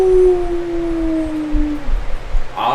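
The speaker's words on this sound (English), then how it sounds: "This dog is howling non-stop." A dog lets out one long, loud, close howl that slides slowly downward in pitch and trails off, followed by some low rumbling background noise.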